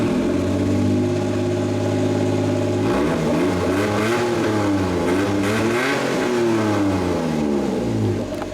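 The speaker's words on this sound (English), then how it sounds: "let's get some engine sound on it" A small Suzuki kei truck engine revs up and down in steady waves, loud and close, its pitch climbing and falling repeatedly with no voices.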